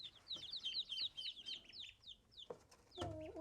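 Rapid high chirps from small chicks, among ducks, peep in a quick series on sawdust bedding, then trail off, with a brief rustle and a low thump at the end.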